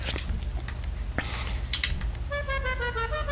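A car horn in GTA Online sounds in a garage tuning menu, likely for a Ferrari F40: a clear steady harmonic honk near the end, after some clicks and brief game noises over a low hum.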